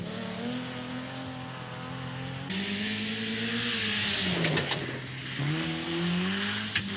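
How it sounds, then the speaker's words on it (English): A Ford Escort race car drives on a track at a Rideau Lakes race, its engine droning steadily and shifting pitch as it passes, heard at a moderate distance. "And here's Keith Billows in the Escort."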